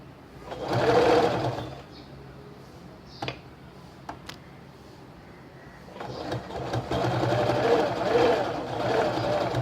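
A sewing machine stitching a kurti runs in two close bursts of whirring, rhythmic stitching separated by a quieter pause with a few clicks as the fabric is handled.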